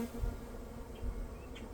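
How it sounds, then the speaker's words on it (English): Bees buzz softly nearby during installation of a nucleus colony, a steady low drone with faint rises as individual insects pass close. "Okay, bees."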